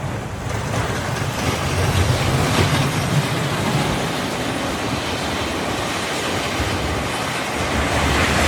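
The Galaxy roller coaster train at Sylvan Beach rumbles along its track, a loud continuous roar and clatter of wheels heard from nearby, with no talking.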